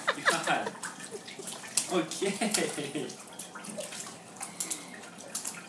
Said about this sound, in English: Somebody figured out how to splash